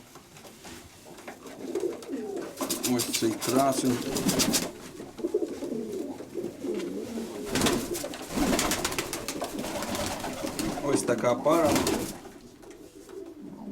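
Paired pigeons of the Grigorov line coo in a loft while someone talks over them, with sharp bursts of wing flapping or handling noise scattered through.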